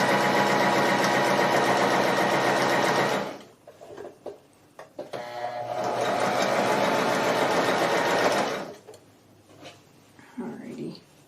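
A sewing machine stitches the first seam of a Beetlejuice-themed quilt test block, giving two long, steady, loud whirring runs separated by a short pause filled with soft handling clicks.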